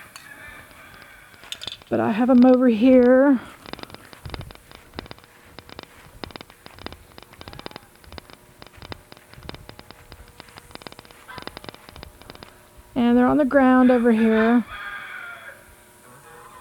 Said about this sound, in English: I hear a rooster, and